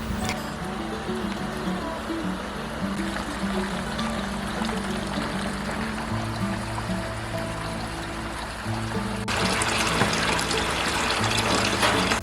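Rainwater runs continuously into storage tanks, a steady gushing flow with a low hum underneath that grows louder near the end.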